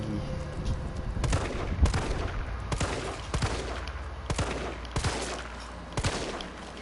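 Repeated gunshots ring out in the Resident Evil 3 demo video game, sharp cracks at irregular intervals with several quick bursts, loud and close against a low game backdrop.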